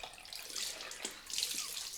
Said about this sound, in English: Cold water in the cloth